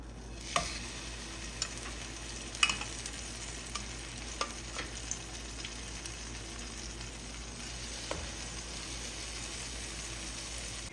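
Slices of egg-soaked bread for French toast fry in a pan with a soft, steady sizzle, broken by occasional light clicks and taps close by.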